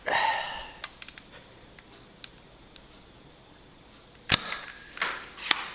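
Air Zone Panther toy blaster, a Buzz Bee design fitted with a heavy air restrictor, fires with one sharp, loud pop near the end, set among light clicks and handling noises.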